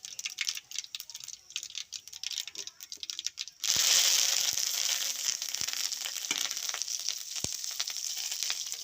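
Two sprigs of curry leaves dropped into hot oil with mustard seeds, a sudden loud sizzle and crackle that stays steady, preceded by quieter clicking and tapping.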